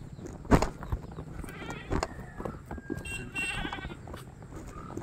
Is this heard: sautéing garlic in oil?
no